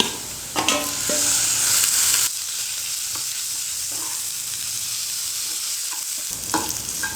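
Marinated chicken sizzles loudly as it is added to a pan of browned onions and frying, with scraping stirs and clatters over a steady, close hiss.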